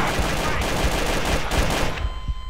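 Rapid, loud bursts of gunfire rattle without a break as shots are fired at apartments during a drug deal gone wrong, dense and close, with a few sharper cracks near the end.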